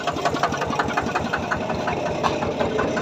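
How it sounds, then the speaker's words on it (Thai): A car engine runs steadily at a low, even drone after a clutch and lower clutch plate replacement, heard up close with a faint rattling pulse and no talking. "อะเดี๋ยวช่างต้นขับรถเอง"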